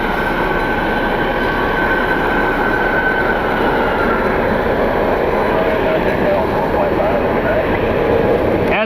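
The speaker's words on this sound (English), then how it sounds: "United 216 is on its takeoff roller heading to Denver this afternoon." A United airliner bound for Denver rolls down the runway on takeoff at Cleveland Hopkins International Airport on a winter day, a loud, steady roar that holds for the whole stretch, with some voice mixed in.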